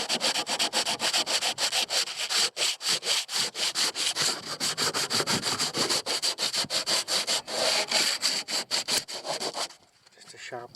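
Sandpaper rubbed quickly back and forth over a surface, a loud close rasping with a steady fast rhythm that runs for about ten seconds, then trails off.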